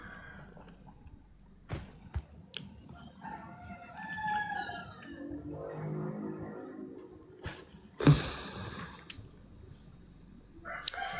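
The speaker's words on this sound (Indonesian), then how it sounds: "Betul kata ayam tetangga ini." A rooster crows and clucks at moderate volume, its calls rising and falling in the middle of the stretch, followed by a sudden sharp thump and a dull, steady background murmur.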